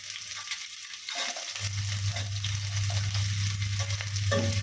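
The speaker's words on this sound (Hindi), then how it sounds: "पियाज को ब्राउन कलर पर्यंत भाजी दबा।" Onions fry in a pan with a crackling sizzle that builds after a second or so into a steady loud hiss, broken by bursts of stirring.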